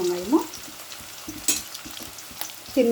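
Fenugreek seeds frying in hot oil, a light sizzle under scattered soft scrapes and taps of stirring, with a faint voice-like hum near the start and end.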